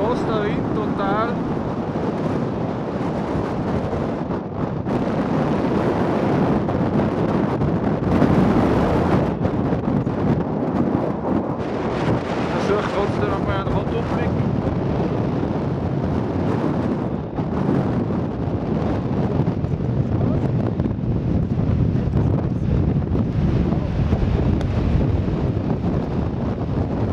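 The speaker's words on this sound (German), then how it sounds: "Es bläst der Wind total." Strong wind blasting across the summit of Cotopaxi in Ecuador, a constant loud roar buffeting the microphone throughout with no let-up.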